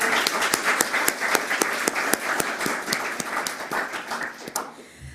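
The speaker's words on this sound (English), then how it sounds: "Can we please give our speakers a big round of applause?" Audience applause for the speakers at a state final of a plain English speaking competition, a steady burst of many hands clapping that fills the room, then stops abruptly near the end.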